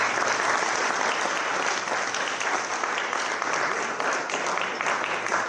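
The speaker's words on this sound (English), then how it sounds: "so let's give it a round of applause." Steady, dense applause from a full house gathered for a Mahavir Jayanti celebration run by the International Ahimsa Foundation, sustained and even at a moderate level with no distinct voices standing out.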